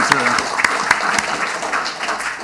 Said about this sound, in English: I got a round of applause because I admitted to being naked